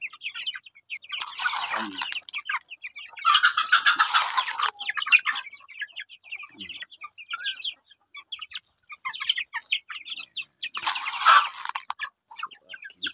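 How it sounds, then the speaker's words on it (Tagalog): A flock of native chickens cluck and chatter close by in a busy, overlapping stream, with louder bursts of clucking rising every few seconds. "yan ang aking mga alagang na chicken"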